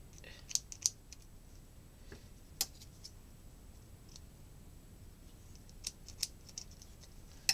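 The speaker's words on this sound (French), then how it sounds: "Je coupe l'excédent de tresse." Braided fishing line trimmed with scissors in a few sharp, faint snips and clicks spaced out over quiet background, close by.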